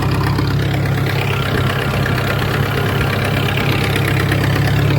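Steady low chugging comes from a tractor working a field sprayer in wheat, close and constant throughout, with no voices over it.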